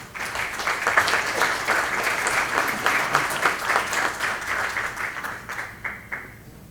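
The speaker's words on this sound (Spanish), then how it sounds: "lo invitamos con un cordial aplauso a tomar el uso de la palabra" An audience at a university lecture event claps to welcome a speaker, sustained applause of many hands at moderate volume that fades out near the end.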